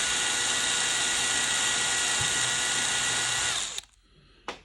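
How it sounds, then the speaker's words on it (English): A loud, continuous whine of an electric drill boring into a scale-model security gate piece runs for several seconds, then cuts off, followed by a short final burst. "I've got my hand on the piece and on the drill"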